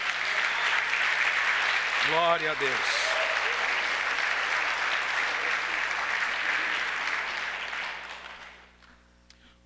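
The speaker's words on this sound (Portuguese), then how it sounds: "Vamos aplaudir Jesus" A church congregation breaks into sustained applause that fills the room as a steady, loud wash of clapping. A voice calls out briefly partway through, and the clapping fades away near the end.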